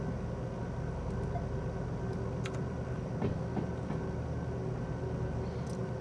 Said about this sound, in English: That clicking noise right there was the locomotive